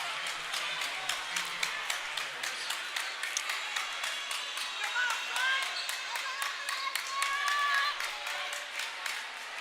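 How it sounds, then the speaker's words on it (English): A crowd at a high school basketball game claps in a steady rhythmic pattern, moderately loud and somewhat distant, with a few whistle-like tones and some crowd noise mixed in. "Crowd really getting into this one."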